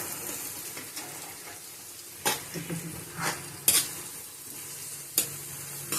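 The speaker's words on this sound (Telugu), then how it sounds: "ఉల్లిపాయలు, పచ్చిమిరపకాయలు, కరివేపాకు మంచిగా వేసుకోవాలి, బాగా ఏగనివ్వాలి" Onions, green chillies and curry leaves frying in a pan for a South Indian tamarind fish curry, a steady close sizzle broken by a few sharp scrapes and clinks of stirring.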